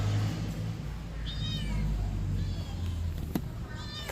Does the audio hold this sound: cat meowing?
yes